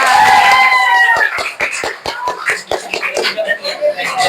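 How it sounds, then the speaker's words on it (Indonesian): A class of students claps together in a classroom, a run of evenly spaced, crisp claps following a moment of voices and laughter, fairly close and clear. "tepuk tangan untuk kita semua"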